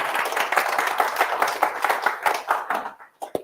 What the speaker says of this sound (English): So give a warm applause for Joop.